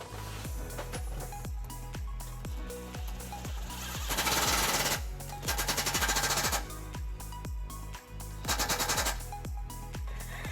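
A power driver runs large self-tapping screws through a hitch bracket into a 2005 Lexus LX470 frame using a 13mm socket, with rapid loud rattling bursts and sharp impacts, close and alone.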